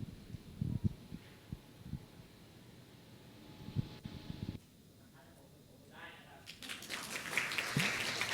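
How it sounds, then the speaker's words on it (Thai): Audience clapping for the speakers at a climate mitigation finance panel: after scattered low thumps and a brief lull, dense, steady applause swells up in the last couple of seconds, fairly loud and continuing to the end. "ก็ไหนๆปรบมือแล้วขอเสียงปรบมือให้วิทยากรทุกท่านอีกครั้งหนึ่งนะครับ"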